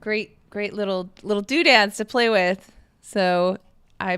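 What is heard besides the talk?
No everyday noise stands out behind the speech.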